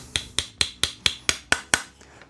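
A mallet knocks plastic end caps onto the ends of a synchronisation rod for a BLUM Merivobox drawer side stabiliser, giving eight sharp, evenly spaced taps close by with no talk.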